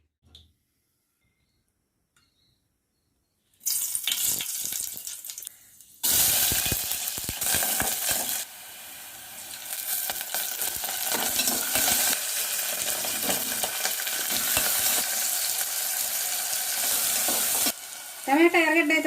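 Tamarind juice is poured into a fish and prawn curry cooking in a pan with tomato and onion, a sudden rush of liquid and loud sizzling that continues steadily with stirring scrapes, after a quiet start, close up.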